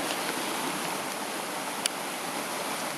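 A forest creek running strongly beside a big deadfall in San Pedro Valley Park gives a steady, close rushing wash of water that holds at an even level throughout with no talk over it.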